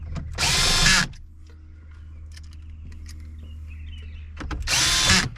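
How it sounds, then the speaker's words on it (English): A small 12-volt cordless drill drives screws through plastic into metal, with two loud bursts of whirring at the start and end and quiet handling noise between them. "this is just a little 12-volt drill"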